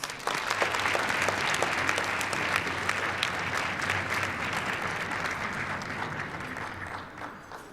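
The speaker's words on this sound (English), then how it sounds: "Let's give Judge Pride a round of applause" A crowd at an awards ceremony claps steadily for several seconds, dense and even, before the applause thins and fades out at the end.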